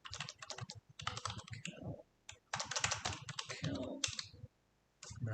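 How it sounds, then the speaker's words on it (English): Computer keyboard typing while entering a calculation, clicks mixed into steady talk nearby, with brief pauses between bursts. "So let me just type in"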